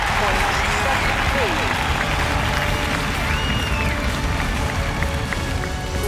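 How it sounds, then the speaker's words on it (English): Crowd in the London 2012 Olympics video game cheering and applauding, a steady dense roar of massed voices and clapping that fills the whole stretch with no pause. "the crowd will react to that quite rightly"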